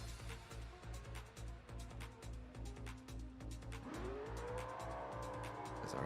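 Race cars revving together at the start of a sim racing video game event at Daytona, a loud sustained engine drone with rising revs building toward launch, no talk over it.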